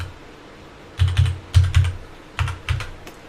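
Short run of keystrokes on a computer keyboard as a password is typed, two quick clusters of crisp clicks, close and clear against a faint room hiss.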